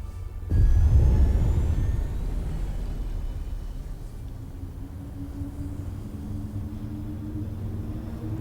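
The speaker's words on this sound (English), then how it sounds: "Listen to them engines." Spaceship engines in Space Engineers 2 start with a sudden deep roar that settles into a steady, loud low rumble and whir, alone with no voices.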